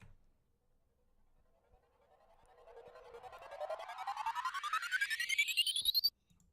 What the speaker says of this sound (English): The second one is a stutter drop, but I put it in reverse